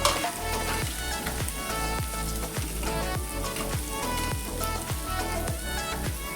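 Potatoes with chili flakes are stirred in a hot pan for a quick dry potato bhaji, a loud continuous sizzle broken by rhythmic spoon scrapes and clinks across the whole stretch.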